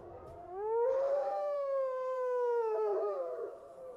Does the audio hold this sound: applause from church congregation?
no